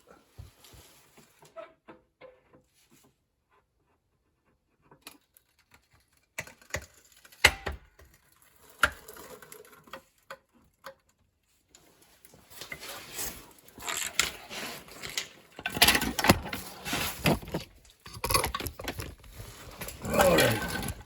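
A rusted spare tire carrier hoist under a 2004 Toyota 4Runner is lowered with scattered ratcheting clicks and metallic clunks, faint at first and then growing louder and busier toward the end.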